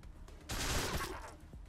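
Gunfire from the post-apocalyptic video game Wasteland 2, a loud burst of several overlapping shots that starts abruptly and then trails off into a softer rumble, with a couple of fainter pops afterward.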